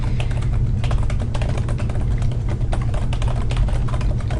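Rapid, continuous keystrokes on a computer keyboard, close and evenly paced with dense clicking over a steady low hum, no voices present.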